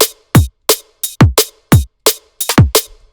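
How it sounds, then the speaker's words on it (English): Dark drum and bass beat built only from kick and snare, no hi-hats: punchy, booming kicks alternate with sharp snares in a steady, loud, syncopated pattern with clean gaps between hits. "nothing wrong with that, normal DnB beat"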